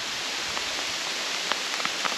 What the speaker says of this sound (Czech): doufal jsem, že ten déšť trochu poleví, ale chči jak chči je